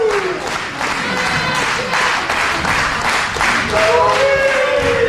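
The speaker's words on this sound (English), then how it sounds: "Crowd really getting behind Hero as the clapping ensues" Wrestling crowd clapping in support of Chris Hero during a match against Steve Corino, a dense steady wash of applause and crowd noise with a commentator talking over it.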